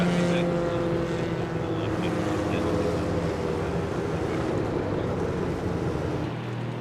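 A race safety car at Bathurst, its engine roaring loudly at first and then fading into a broad rumble as it pulls away, with a faint voice under it.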